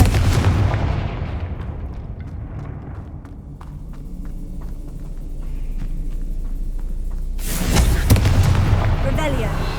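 A Confringo fire spell from Hogwarts Legacy bursts with a loud, close blast, with a second booming impact near the end, set against a rumbling battle backdrop.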